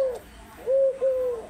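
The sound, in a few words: pet dove cooing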